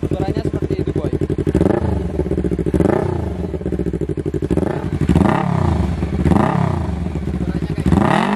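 A two-cylinder Yamaha Vixion motorcycle with an open Engker three-mode exhaust and no dB killer is revved up and down repeatedly, a loud, close, rapid throbbing burble rising and falling in pitch.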